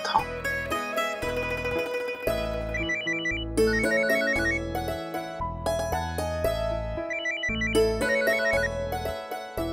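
A melodic phone ringtone plays continuously for about ten seconds, bright and loud with repeating chiming phrases, heard alone with no talk over it.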